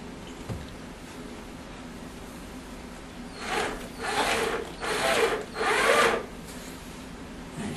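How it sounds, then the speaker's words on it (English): Screws driven into the control panel of a MAME arcade cabinet, probably with a power driver: four short whirring bursts in a row, each about a second long, close by, with a quiet room background before them. "Go ahead and run our screws in."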